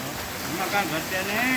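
Continuous rain patters and hisses, with a faint voice partly mixed into the steady wash of water.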